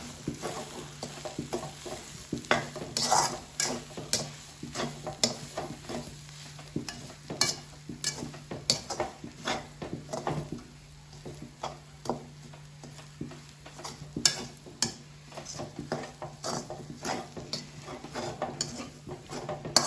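Vegetable cutlet mixture with pepper powder being stirred in a pan, continuous scraping and tapping of a spoon against the pan over a low sizzle, busy and close for the whole stretch.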